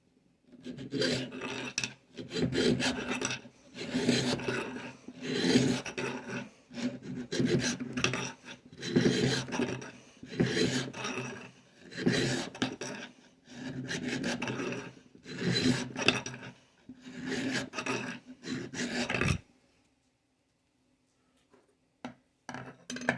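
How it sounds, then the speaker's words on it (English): A coarse file rasps across soft aluminum during a thread repair on a Hitachi table saw's height adjustment, in steady back-and-forth strokes, close and loud, about a dozen passes before stopping into near silence. "Actually go to a little bit coarser file."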